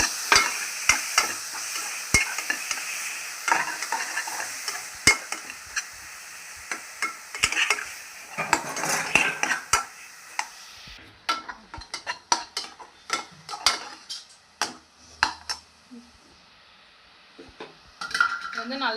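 Ground onion paste and green chilies being sautéed in a pan for hotel-style chicken pepper soup, with steady sizzling, frequent clinks of a metal spoon stirring against the pan, and louder scraping early on.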